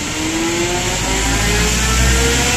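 A concrete mixer truck delivering concrete to a building site runs loud and close, its engine droning steadily and rising slightly, with no voices.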